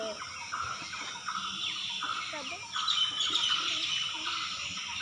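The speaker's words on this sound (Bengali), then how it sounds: "দেখ না কি সুন্দর পাখির আওয়াজ," Small birds chirp and tweet outdoors in a village, with a scattering of quick calls at middle distance over a soft background hum, and a voice speaks in places.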